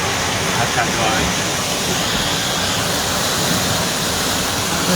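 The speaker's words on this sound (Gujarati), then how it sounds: "ઉપરથી ગિરનારમાંથી પાણી આવે છે" Rainwater rushing down from Girnar hill after heavy rain at Bhavnath, Junagadh, a broad continuous roar of flowing water filling the scene, steady and fairly loud from start to finish.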